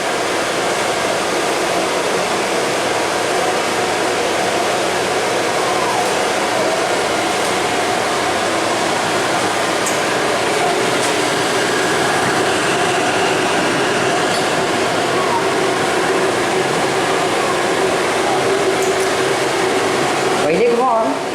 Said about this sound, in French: On va juste montrer un peu comment ça se passe au début du séchage.